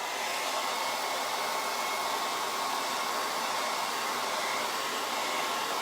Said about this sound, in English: I'm going to blow dry this